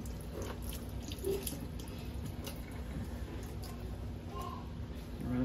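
Running water pours steadily while rinsing conditioner out of a girl's hair on a home wash day, a continuous close splash and trickle with a few brief louder bursts.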